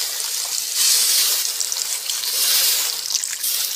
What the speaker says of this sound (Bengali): এখন দিয়ে দিচ্ছি জল